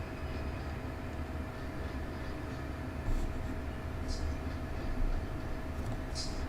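Low, steady rumble of a train running in Run8 Train Simulator V3, a continuous rolling drone with a few faint higher squeals, moderately loud and unbroken.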